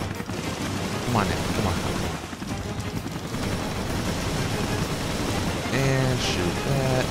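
Gunfire in the survival horror game Resident Evil Revelations: repeated loud shots and rumbling impacts amid a dense, noisy action scene, with someone talking over the shooting.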